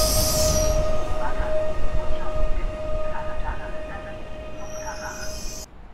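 An S3 airport commuter train rumbles steadily past platform 9 at Warszawa Zachodnia at close range, with a sustained metallic tone and brief squeals riding over the broad roar before it cuts off.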